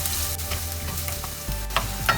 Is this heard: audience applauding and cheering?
no